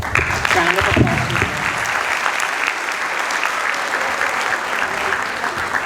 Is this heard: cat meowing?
no